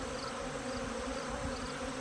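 Honeybees at an open hive during a late-season inspection give a steady, dense drone that holds evenly throughout, close and continuous with no voices.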